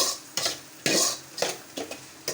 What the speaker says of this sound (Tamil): அதுக்கப்புறம் கடுகு, சீரகம், மிளகா, உள்ளியை போட்டு நல்லா வதக்குது.